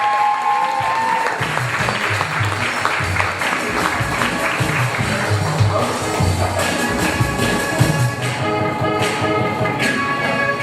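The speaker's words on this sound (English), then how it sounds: "Round of applause, y'all." Sustained applause from an open-mic audience welcoming a poet to the stage, dense clapping steady and fairly loud throughout, with scattered thumps and a few faint voices mixed into the crowd.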